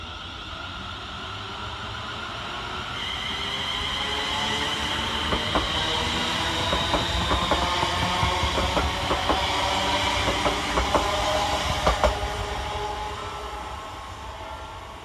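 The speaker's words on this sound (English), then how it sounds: "On the near side we see the departure of 380019 with the 1252 Scotrail service from Glasgow Central to Gurrock." A Scotrail Class 380 electric multiple unit pulls out of Paisley Gilmour Street station with steady, building rail noise and repeated wheel clicks over joints, moderately near and with no talk.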